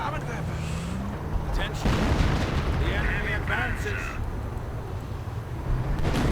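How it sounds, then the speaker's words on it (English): Howitzer explosions and artillery fire in a war strategy video game: rumbling blasts and bursts over a steady roar of battle ambience, with a sharp impact about two seconds in and a commentator speaking over it. "Entire sapper section went down in a howitzer explosion."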